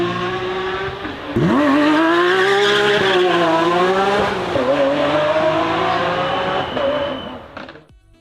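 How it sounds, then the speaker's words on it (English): Loud, close V12 of a Lamborghini Aventador Ultimae revving hard, the pitch sweeping up and down through several throttle blips with a brief tire squeal, then fading out at the end. "Every version of the Lamborghini Aventador is well known for its great sound, and the Ultimae is not an exception, as its V12 is capable to make a symphony"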